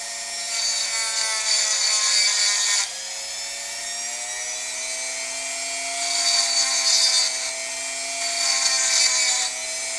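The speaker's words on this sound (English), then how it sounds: "You want to get on that sanded edge, and just make a couple of grooves." A file cuts a couple of grooves into the sanded edge of a coin for a two-coin pendant, a loud, sustained metallic rasping that comes in repeated strokes and stays close.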